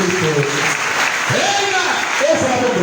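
A church congregation claps steadily and fairly loudly during a French sermon, with a voice calling out over the dense applause.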